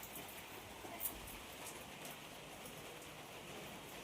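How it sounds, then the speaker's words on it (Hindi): Steady rain falls outside on a rainy morning as a soft, even hiss of drops with a faint patter, continuous and fairly quiet with no voices. "ये देखिए बारिश हो रही है।"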